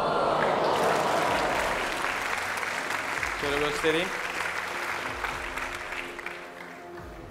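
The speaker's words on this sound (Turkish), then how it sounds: "Tamam, yine kocaman bir alkış alabilir miyiz?" Studio audience applause on a Turkish talent show, a dense steady wash of clapping that carries through the clip while someone speaks briefly over it.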